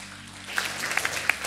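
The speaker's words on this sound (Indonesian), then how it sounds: "Tepuk tangan." A church congregation breaks into a short burst of scattered hand clapping during a sermon, starting after a brief pause and building into a quick, lively patter.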